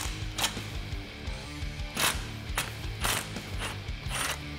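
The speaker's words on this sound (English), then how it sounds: "I'm going to use a 13 millimeter socket and 13 millimeter wrench, as well as a small extension." A 13 mm socket wrench working the lower front shock bolts on a 1997-2006 Jeep Wrangler TJ, heard as rhythmic metallic ratchet clicks in short bursts over a steady background hum, close by and without speech.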